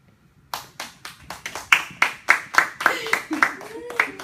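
An audience applauds an author at a live event, with individual claps rising steadily into a crisp, rhythmic round close by, and a faint voice underneath.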